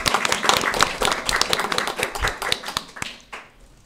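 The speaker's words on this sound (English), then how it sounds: "Because I'd like to give her a round of applause" Round of applause at a school district board meeting, sharp, close claps from a small group, fairly loud at first and then thinning out and fading toward the end.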